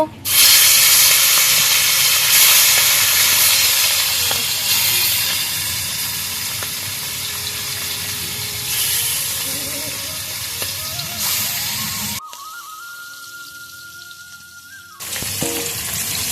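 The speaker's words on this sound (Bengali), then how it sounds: "ইলিশ মাছটা হালকা করে ভেজে নিয়েছি, বেশি কড়া করে ভাজবো না।" Hilsa fish frying lightly in a pan in a village home kitchen gives a loud, close, continuous hissing sizzle that gradually eases and then briefly drops out near the end.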